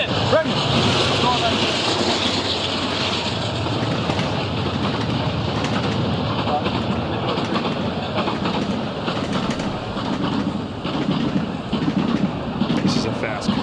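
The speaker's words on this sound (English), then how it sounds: "This is a fast commuter train going by that." A fast commuter train passing near the Chambers Bay golf course during the final round of the 2015 U.S. Open, a steady, loud rumble with clickety-clack of rail cars continuing throughout, with a commentator talking over it.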